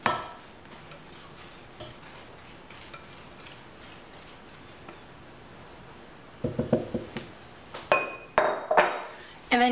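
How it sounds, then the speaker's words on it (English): White chocolate coating and pretzels being stirred in a big pot, heard as quiet scraping early on, then a run of louder clinks and knocks of a utensil against the pot in the final few seconds. "you're going to lightly stir this all together without breaking up the pretzels"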